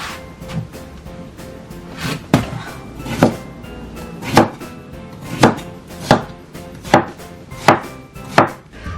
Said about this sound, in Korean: 이거는 그냥 우리 그냥 수박 껍질 다 쳐내버리고